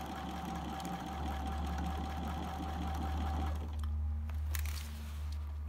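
A sewing machine stitches a hat brim toile in a rapid mechanical chatter that runs for a few seconds, then stops, leaving a low hum and a few soft handling clicks.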